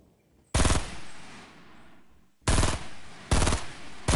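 Enemy gunfire in the Fortnite video game: three loud, close bursts of automatic fire, the first longer and the last two shorter and tightly spaced, with quieter game ambience between them.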